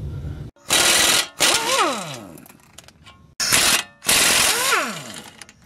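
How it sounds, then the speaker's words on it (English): An impact wrench loosening the two 17mm brake caliper bracket bolts during a ball joint job, heard as two loud, close hammering bursts, each followed by a spinning whine that winds down. "removing the caliper and the bracket by removing these two 17mm bolts"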